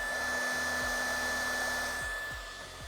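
Cooling fan of an Exway Flash Charger spinning at 15,000 RPM, a loud steady whine with a high tonal hum, heard up close and alone.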